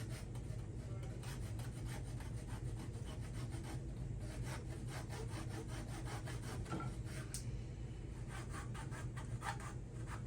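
Hand sawing through wood and metal on a wedge banger, rapid steady back-and-forth strokes close by with rasping friction, no talking.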